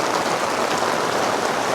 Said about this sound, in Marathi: काय खतरनाक पाऊस चालू झाला आहे